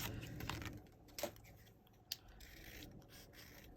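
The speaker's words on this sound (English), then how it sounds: "I'm just gonna go ahead and just cut out a small little circle" Scissors snip a small circle out of a paper scrap for a handmade poinsettia paper flower, giving a few crisp close cuts and light paper rustles amid quiet room noise.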